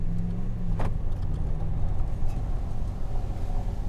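A Dodge RAM 1500 Laramie Classic pickup with a 5.7-litre V8 HEMI rolls slowly into a cobblestone courtyard, its engine a steady low rumble close by with a brief whine and faint clinking over it.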